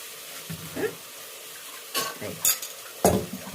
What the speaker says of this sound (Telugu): మంచిగా కలుపుతున్నా. చూడండి, ఇప్పుడైతే అల్లం వెల్లిగడ్డ వేస్తున్నా